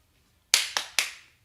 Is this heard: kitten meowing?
no